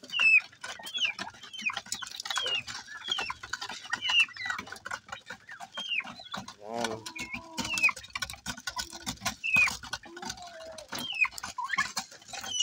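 Farm poultry, mainly chickens, cluck and call repeatedly at close range, with scattered rustling and patter of animals moving about, no talk.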